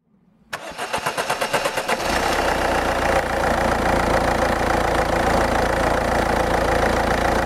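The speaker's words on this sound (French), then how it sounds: "Maintenant, nous commençons le moteur." A car engine cranks with a rapid starter whir, catches after about two seconds and settles into a loud, steady idle with a low rumble, heard up close with no talk, during a check of the alternator and battery charging.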